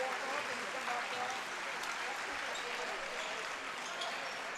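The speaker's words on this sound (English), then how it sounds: "they get a standing ovation from the crowd" Sustained broadband crowd applause at a men's college basketball home game, a standing ovation that holds steady and fairly loud throughout without a break.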